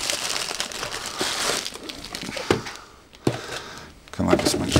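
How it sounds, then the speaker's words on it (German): Packaging for a LeOx hardware item crinkles and rustles as it is unpacked up close, in irregular bursts, with a person talking over it. "dann können wir das mal auspacken"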